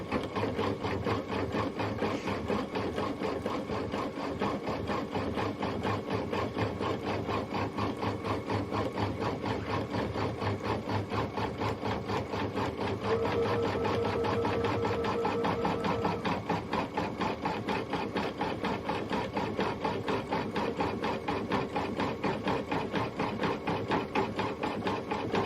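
An embroidery sewing machine stitches long threads in a fast, steady mechanical chatter that runs unbroken and close throughout, with a slight change in tone partway through.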